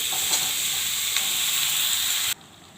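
Malabar spinach (pui shak) hitting a hot pan with salt and turmeric, a loud, even sizzle and steam hiss close by for about two seconds before cutting off abruptly.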